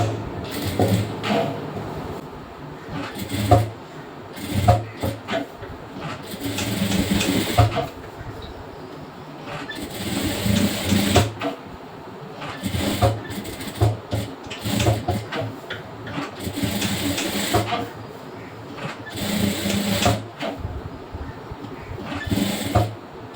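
A sewing machine stitching a blouse sleeve and side seam, running in repeated whirring bursts of a few seconds each, with short pauses between, close and steady.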